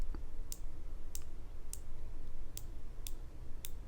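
Six crisp, sharp clicks from the adjustment turrets of an EZshoot green dot sight at a steady pace, close up, over a quiet background hiss.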